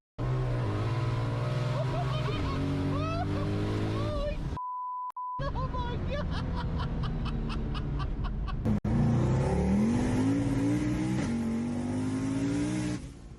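An LS-swapped BMW E90 335i with an M3 DCT gearbox revs hard, its engine rising and falling in loud, close bursts with a brief beep and a sharp click between runs, and voices faintly underneath.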